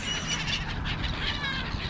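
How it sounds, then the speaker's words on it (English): Pigeons, black-headed gulls, crows and silver gulls at an evening feeding call together in a dense, continuous chatter of overlapping squawks and cries, with no single bird standing out. "We got pigeons, we got black-headed gulls, we got our crows, we got our silver gulls, a few mill gulls."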